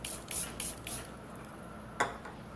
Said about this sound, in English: And then what I'll do, I'll take some setting spray.